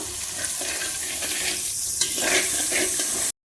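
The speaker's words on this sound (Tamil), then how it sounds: "ஒரு பச்சை மிளகா, ஒரு பெரிய வெங்காயம் போட்டு எல்லாம் வணக்கிறோம்" Green chili and a large onion sautéing in a hot pan: a loud, close sizzle with scraping stirs layered through it, continuous until it cuts off abruptly near the end.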